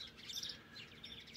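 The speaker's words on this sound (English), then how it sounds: "So just the sound of the birds." Birds chirp and tweet in quick bursts against a soft outdoor background beside olive, orange and lemon groves in Spain, with no voices.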